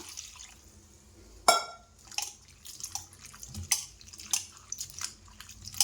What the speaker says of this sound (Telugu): ఇప్పుడు దీంట్లో మనం వాటర్ వేసేసుకొని ఇవన్నీ కడిగేసుకుందాం